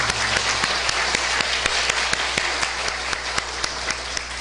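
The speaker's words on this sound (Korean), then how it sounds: "우리 하나님께 영광의 박수를 드리겠습니다" A church congregation bursts into steady applause during a Korean worship service, dense clapping filling the room evenly from start to finish with no speech over it.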